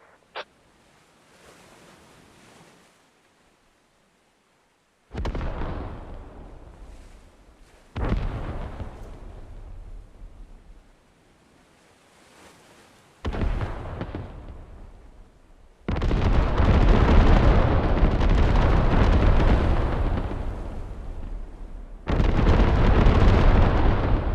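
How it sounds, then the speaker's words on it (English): Orbital strike explosions in the Star Wars-themed game mode Galactic Contention for Squad boom one after another, a series of heavy, sustained blasts that grow louder and denser toward the end. "you can widen or tighten the payload of the orbital strike"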